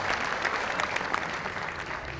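Steady audience applause welcoming the poet Sagar Khayami at a Hyderabad mushaira, a dense, even patter of many hands that holds constant throughout.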